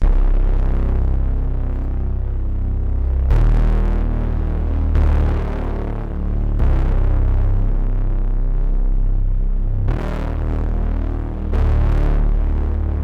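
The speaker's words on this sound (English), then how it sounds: "So yeah, that bass sounds really cool, really distorted." A heavy, distorted bass synth plays sustained, gritty notes that throb and change pitch every couple of seconds, loud and alone.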